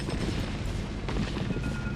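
Dense rumbling explosions and gunfire from a StarCraft battle between Terran and Protoss forces roll on continuously, a loud low booming wash with no talk over it.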